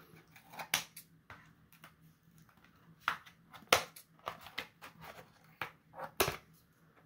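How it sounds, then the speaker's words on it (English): Sharp snipping clicks of scissors cutting twist ties, irregular bursts of several quick snips separated by short pauses, close and fairly crisp, while unboxing a GI Joe Classified figure. "All them twist ties, but twist ties be damned. I have scissors."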